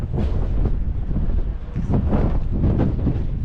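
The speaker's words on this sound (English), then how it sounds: "that wind is that wind's cutting through" Gusty wind buffets a microphone outdoors in an old Arizona mining town, rumbling in uneven low surges throughout with no voices.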